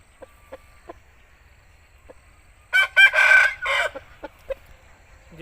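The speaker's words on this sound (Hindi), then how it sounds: "ये डिंग ताजा मुर्गा है और शका इसका नाम है भाई।" An aseel rooster crows loudly and close by in one long harmonic call lasting about a second, with a few soft clicks and taps around it and a low, steady hum underneath.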